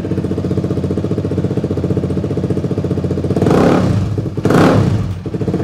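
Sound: motorcycle revving with aftermarket exhaust

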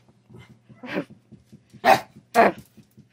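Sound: Chinese Crested dog begging, barking and whimpering

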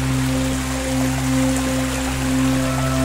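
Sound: waterfall and stream at Pozze del Diavolo, Roccantica

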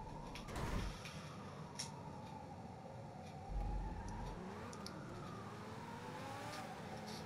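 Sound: emergency vehicle sirens in the distance

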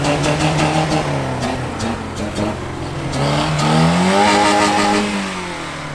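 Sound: car engine revving, likened to a rotary engine

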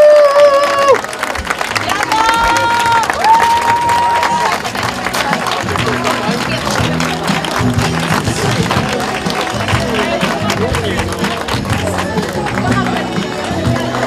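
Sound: applause and cheering for the women's category winner

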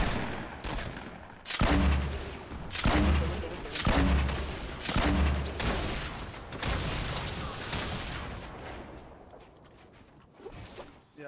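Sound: gunfire in Fortnite Battle Royale video game

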